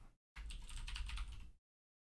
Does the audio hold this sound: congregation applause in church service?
no